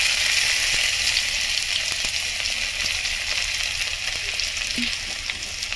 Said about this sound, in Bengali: সবগুলো ভালো করে ভেজে নেব।